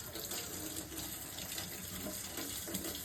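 Steady rushing of cold tap water splashing into a sink as a small espresso machine cleaning disc is rinsed under it, continuous and close with no talking.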